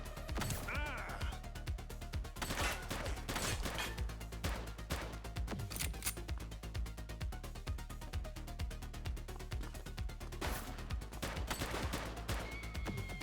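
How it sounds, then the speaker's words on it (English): Sharp gunshots crack through a police video game scene, spaced single shots and short bursts, fairly close, mixed with scuffling noises and occasional shouted voices. "She's shooting!"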